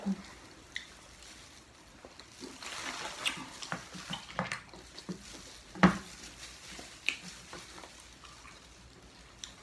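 A seafood boil in oily sauce being shaken, with wet squelching, sloshing and rustling in irregular bursts close by, one louder thump near the middle, and no talking.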